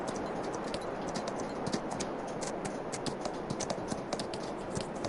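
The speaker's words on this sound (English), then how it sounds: "These are his horses" Horses move about on a farm in Farming Simulator 22, a continuous patter of quick, irregular hoof clip-clops over a steady background hiss, close and moderately loud.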